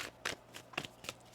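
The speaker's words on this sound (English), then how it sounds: "One more shuffle here." Tarot cards being shuffled by hand in three quick riffling bursts, close and fairly quiet, with short pauses between them and no talking.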